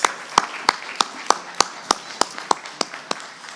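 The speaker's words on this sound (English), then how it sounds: "let's give our panelists a round of applause" Audience claps for panelists at a summit: a dozen or so sharp, evenly spaced claps stand out over a thin murmur of applause, fairly close and crisp.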